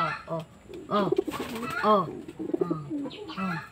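A breeder pigeon coos repeatedly up close, soft throaty rolling calls in a loose rhythm, with someone talking in the background.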